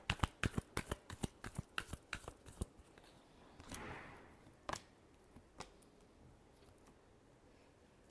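Tarot cards shuffled by hand: a quick run of crisp, evenly spaced papery snaps, then a softer slide and a few scattered taps, close and quiet with no voices.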